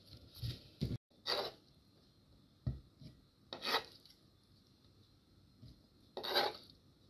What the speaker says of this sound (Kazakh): Енді оны банкеге саламыз.